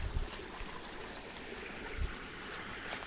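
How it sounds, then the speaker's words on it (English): Red, iron-rich creek in Wekiwa Springs State Park, Florida, flowing with a soft continuous babble and trickle, faint and close, with a few light thumps of movement nearby. "Need to get across this creek."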